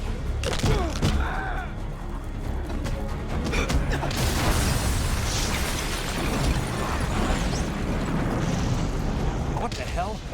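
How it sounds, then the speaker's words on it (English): An explosion goes off in a shower room in the Watchmen: The End is Nigh video game: a sudden broadband boom midway with crashing and rumbling debris, under and between voices talking. "That explosion came from the shower room."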